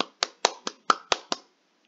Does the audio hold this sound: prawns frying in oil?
no